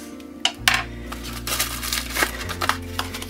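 A teaspoon of baking soda tips into a bowl while making chicken fried rice, giving a few light spoon clinks and scrapes against the dish over a steady kitchen hum.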